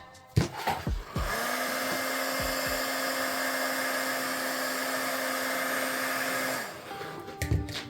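A heat gun blows hot air over resin-coated forged carbon fiber, a steady whirring hiss with a tonal hum that runs for several seconds between a few knocks and clicks at the start and end.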